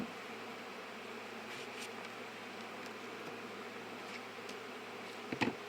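Honey bees hum steadily around a hive that is being requeened after a drone-laying queen, a faint, even drone of many insects with a brief louder rustle near the end.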